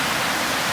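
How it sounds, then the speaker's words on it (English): Arroyo Del Valle Creek in flood, running over a trail at night, gives a loud, continuous rushing of water with no pauses. "That's the Arroyo Del Valle Creek, and it's currently flowing over the trail as a river of some sort."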